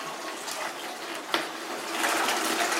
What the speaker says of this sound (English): and I pour the water in the other bucket.